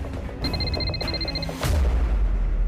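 A telephone rings with a quick, rapidly repeating electronic trill for about a second, loud and close, before a heavy low boom cuts in and holds underneath.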